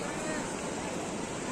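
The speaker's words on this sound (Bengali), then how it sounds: "ঢেউ আসছে," Sea waves wash onto the beach at Digha, a steady broad rushing surf with some wind noise, fairly faint and continuous through the short stretch without clear breaks.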